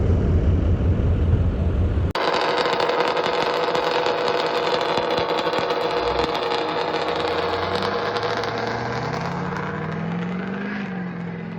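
A land-speed record car chasing 260 mph launches off the line with a loud, sustained engine roar that holds steady and then climbs in pitch as it pulls away.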